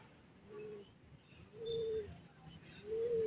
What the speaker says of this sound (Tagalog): So yan yung kalapate natin, mag-aabang tayo kasi nga baka biglang dumating.